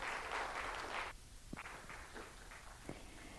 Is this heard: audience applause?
yes